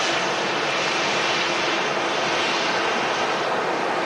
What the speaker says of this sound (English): to our left, we got the Virgin Atlantic A330 taxiing out